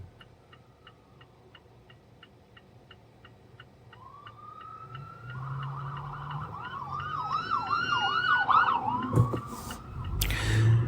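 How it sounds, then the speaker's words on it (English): A steady ticking plays alone, then an ambulance siren rises in and wails up and down, growing louder as it approaches and passes close by. "the ambulance coming. They're going to be coming right on here and you guys are going to hear it"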